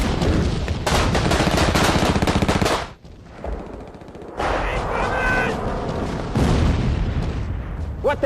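Dense machine-gun fire and artillery booms from a Battle of the Ardennes battle scene, loud and continuous bursts that drop away for a moment into rumble before heavy firing returns.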